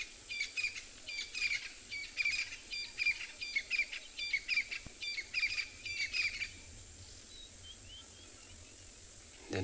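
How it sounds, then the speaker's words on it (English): A crested francolin calls in a South African bush setting at morning, its repeated rhythmic phrases rising through a steady chorus of crickets and other birds, moderately distant, with no talk. "all melody sound that coming out from the background, that's a crested francolin"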